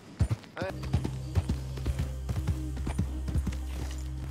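Horse hooves in Red Dead Redemption 2, a quick rhythmic clip-clop of galloping, close and steady, with a brief whinny-like sound near the start and a low engine-like drone beneath.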